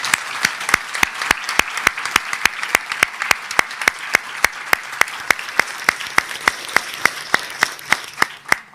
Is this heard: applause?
yes